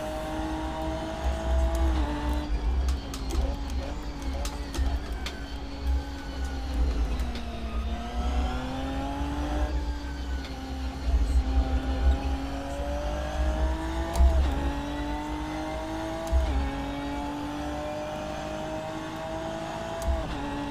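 A Ginetta Supercup 2017 race car in Assetto Corsa, its engine droning steadily with rising and falling revs through gear changes, loud and continuous with no talk.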